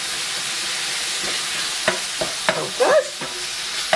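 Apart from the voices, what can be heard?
mince frying and sizzling in a hot pan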